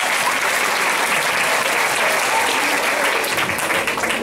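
An audience breaks into steady, continuous applause, many hands clapping at an even level throughout, with a murmur of voices faintly underneath.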